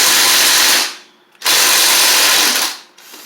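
Battery-powered 1/2 inch impact wrench hammering at a starter bolt on a John Deere L110 lawn tractor, two loud rattling bursts separated by a short pause, very close.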